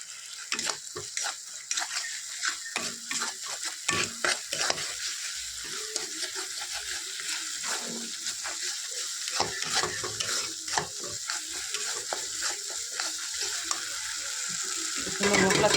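Yogurt is stirred into a spice paste frying in oil for doi katla, a curd fish curry. The pan gives a crackling sizzle mixed with rapid scraping and clicking from stirring, and it swells louder near the end.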